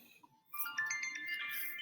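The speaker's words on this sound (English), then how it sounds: "Hold on, my phone's ringing." A phone ringtone chimes out in a short bright electronic melody of several quick rising tones, close and clear, with no talk over it.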